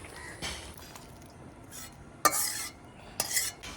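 Boiled moong dal with Malabar spinach stems poured into a hot tempering in a pan, brief bursts of hissing and clinks of utensils with quiet gaps between, no talk.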